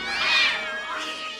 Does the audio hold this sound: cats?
yes